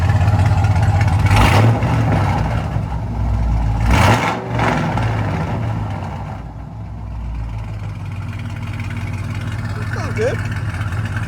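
A 2010 Camaro SS with an LS3 V8 and long tube headers rumbles loud and close, with two sharp throttle blips early on, then settles into a deep idle.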